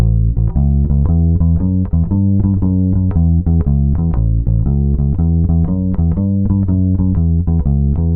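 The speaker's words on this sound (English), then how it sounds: "But if we were to play the same bass line but with a shuffle feel," An electric bass repeats a blues line with a swung shuffle feel, loud and close, its low notes falling in a lilting long-short pattern that rolls steadily without any talking.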